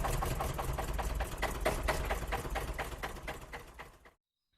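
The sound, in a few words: tractor engine running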